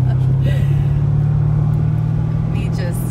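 2006 Chevrolet Corvette Z06 with a six-speed manual, its engine droning steadily at a constant pitch while cruising near a gear change, loud and close with faint voices in the background.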